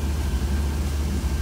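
A 1966 Cadillac engine fitted with a Holley Sniper, its IAC unplugged, idling high at about 2,000 RPM: a steady, continuous low rumble held near and fairly loud with no speech.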